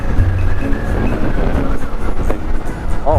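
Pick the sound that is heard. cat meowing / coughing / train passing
train passing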